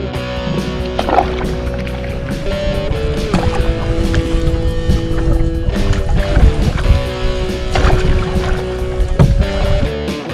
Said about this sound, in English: We're in that canoe together, 600-pound weight capacity, and we seem to be pretty stable.